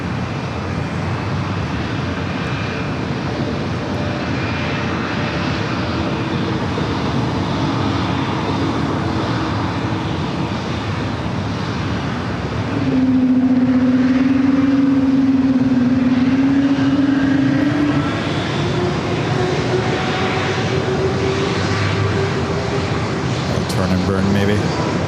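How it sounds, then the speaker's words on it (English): A Breeze Airways Airbus A220-300 takes off at San Diego airport, its engines a loud, steady roar that swells into a rising whine partway through, with a voice talking over it. "the Breeze Airbus A220 300. The flight heading to Norfolk, Virginia."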